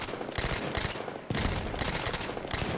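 Rapid bursts of automatic gunfire from a hard-kicking weapon in Battlefield 1 on PS4, loud and dense with a brief break mid-clip before the firing resumes.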